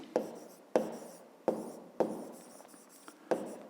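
A pen writing on paper during a fifth-grade maths exercise, a run of close, crisp scratchy strokes that start sharply and fade, repeating about six times at a quick, even pace with no talk.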